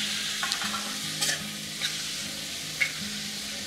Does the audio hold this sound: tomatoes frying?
yes